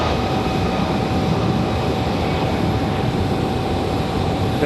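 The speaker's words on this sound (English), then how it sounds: "We got Alaska getting out of here. I think that's on off to San Diego. That is the MAX 9." An Alaska Airlines Boeing 737 MAX 9 departs from Raleigh-Durham airport, its engines giving a steady, even rumble at moderate distance throughout, with no voices.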